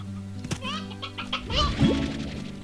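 Chickens in the video game Slime Rancher cluck in short, scattered bursts mixed with light thuds and game sound effects, fairly quiet and close.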